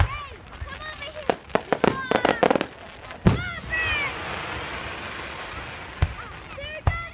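Fireworks go off at Copper Sky Park: a rapid string of sharp crackling pops and whistling bursts, then a loud boom followed by a lingering crackle and a few scattered pops, with people talking and exclaiming nearby.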